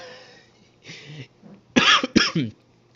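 Two loud, harsh coughs in quick succession close to the microphone, preceded by a few softer throat sounds.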